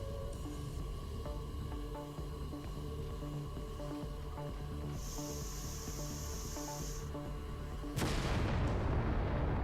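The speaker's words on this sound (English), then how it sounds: "Vacate this area at once. Explosion imminent." Game explosion aboard a spacecraft in Everspace 2 on very hard difficulty: a steady droning hum with a high hiss midway, then a sudden loud burst of broadband rumble near the end that stays dense and roaring.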